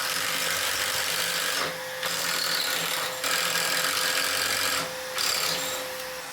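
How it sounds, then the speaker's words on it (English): A drill boring angled pocket screw holes through wood with a blue pocket hole jig on a garage workshop table, heard as several close, steady whining drill runs separated by short pauses. "Pocket screws are when you drill angled holes from one piece to the other, forming a small pocket."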